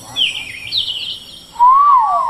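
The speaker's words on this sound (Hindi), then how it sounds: "कोयल के सुंदर आवाज है" An Asian koel sings close by: a high, warbling call, then a louder, clearer whistled note that swoops up and down, heard on its own.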